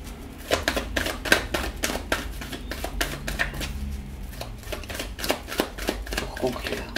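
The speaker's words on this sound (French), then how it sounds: "Je vais tirer 3 cartes." Playing cards are shuffled and drawn during a French-language card reading, heard as a run of quick riffling snaps and light slaps, with a voice speaking over them.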